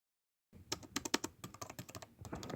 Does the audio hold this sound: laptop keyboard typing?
yes